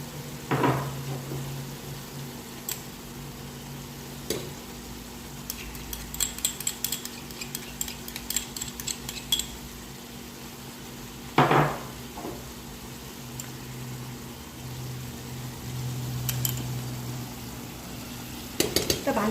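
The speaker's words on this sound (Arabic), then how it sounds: "طبعا هي عم نحط الصوص." Sauce goes into a pan of cooked meat and vegetables with a soft sizzle, sharp clinks of utensils and a few louder knocks spaced through the stretch, all with no talking.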